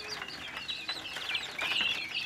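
Local chickens and guinea fowl chicks kept in a cage give a steady, close stream of high chirps and soft clucks that overlap throughout and grow slightly busier toward the end.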